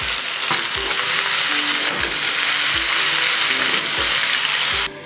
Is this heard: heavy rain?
no